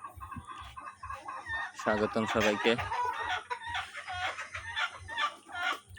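Tiger breed chickens cluck continuously nearby, with a rooster's crow rising in the middle, while someone speaks briefly over the flock.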